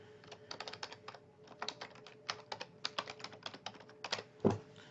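Keys clatter on a computer keyboard in quick irregular bursts of soft clicks, close and quiet, with brief pauses between runs of typing.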